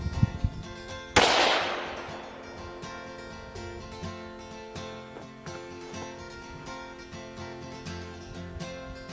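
A single gunshot from a .243 rifle firing a 75 grain round during a coyote hunt on Canada's east coast, one sharp loud crack that rings and decays into the quiet outdoors.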